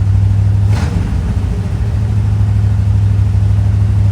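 Engine of a very rusty Chevrolet Nova running close by, a steady loud low idle with a brief blip of revving near the start, then settling back to an even drone.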